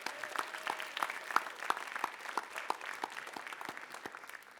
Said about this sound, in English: All right, one last round of applause for our presenters this hour.